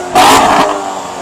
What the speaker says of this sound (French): Démarrage de la C7, bien féroce.